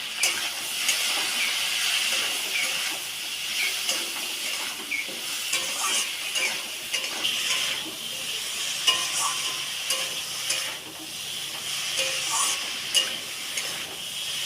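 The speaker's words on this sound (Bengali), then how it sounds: "সবগুলো দিয়ে একসাথে কষিয়ে নেব।" Vegetables with turmeric and chili powder frying in a pan for a thin fish curry, a continuous close hiss and sizzle with soft stirring clinks scattered throughout.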